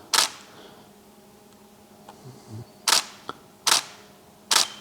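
Camera shutter clicks while shooting photos by a window, four sharp, evenly spaced releases, one at the start and three in quick succession near the end, with quiet room tone and a few faint knocks between.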